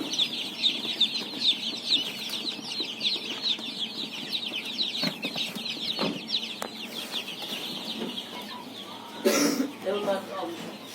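Incubator-hatched chicks and young chickens peep constantly in high, rapid chirps, with occasional clucks and a brief flutter nearby, while someone talks over them.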